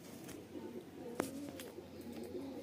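A red-marked Rampuri pigeon gives soft, low coos close by, with a brief sharper sound partway through, over a quiet, faintly noisy room.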